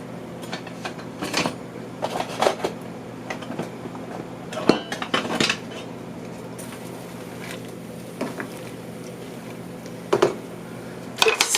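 Loose tea is put into a large kettle for an Amish haymakers beverage, heard as scattered clinks and knocks of metal and utensils against a low steady background hum.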